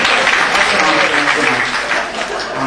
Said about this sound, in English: Let's have a small round of applause for this man who just clapped.